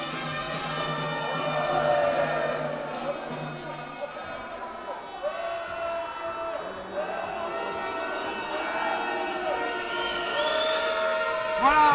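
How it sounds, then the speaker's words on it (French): Crowd at a men's basketball final between Alès and Albi: a sustained, droning wave of booing rises and falls through the arena, with a commentator talking over it. "huées du public"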